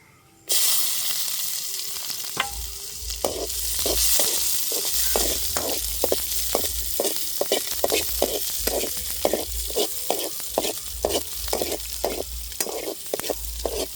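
Crushed onion drops into hot oil in a pan with a sudden loud sizzle. The frying hiss continues steadily, broken by a regular series of sharp stirring scrapes and knocks, with no speech.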